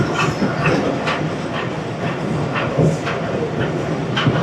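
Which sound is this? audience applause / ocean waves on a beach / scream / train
train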